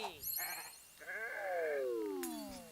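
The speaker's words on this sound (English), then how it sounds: "I annoyed the sheep and enraged him by posing" A cartoonish sheep in the video game Renowned Explorers bleats several times in quick succession. The wavering, nasal cries are fairly quiet, with a few short electronic effect tones among them.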